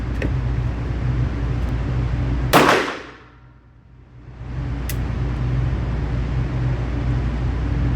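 A single sharp pistol shot from a SAR K12 Sport loaded with Max Tech ammunition cracks out loud and close over a steady outdoor hum, with a much fainter click a couple of seconds later.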